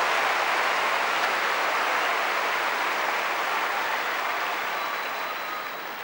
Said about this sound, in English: Some people applaud and some just stare in amazement.